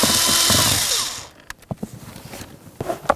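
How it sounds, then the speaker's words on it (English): A power driver with a T20 Torx bit whirs loudly for just over a second while backing out a blower motor mounting screw on a 2003-2007 Honda Accord, then stops, followed by several sharp clicks and knocks of handling. "Now we'll use a T20 Torx bit to remove all 3 of our mounting screws."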